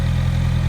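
A Honda CBR1100XX Blackbird motorcycle engine idles close by, a steady low throbbing pulse with no clutch rattle, loud and unbroken over a brief moment.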